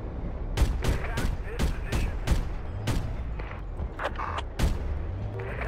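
Gunfire in the military shooter Project Reality, a rapid series of sharp, close shots in quick bursts and single cracks, with a rumbling battlefield background throughout.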